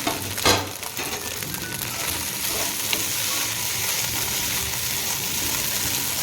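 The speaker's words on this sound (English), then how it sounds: "let's add the idli that we have broken into small pieces and mix everything thoroughly" Broken idli pieces are stirred and fried in a pan for garlic idli upma, giving a steady, close sizzle with a scrape of stirring near the start, continuous throughout with no talk.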